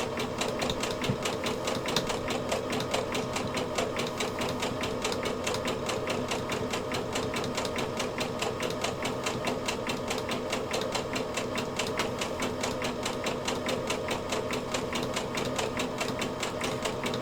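A sewing machine stitches stretch fabric, running at a steady, rapid mechanical patter with an even rhythm for the whole stretch. The sound is moderately quiet and close, with no talking.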